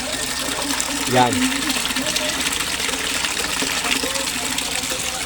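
A koi pond aerator pump churns water into a loud, steady rush of bubbling, with someone talking over the constant gush.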